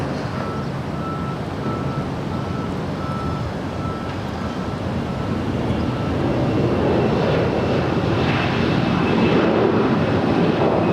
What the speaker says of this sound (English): That is Delta Airlines flight 324 heading to JFK in a 757-200.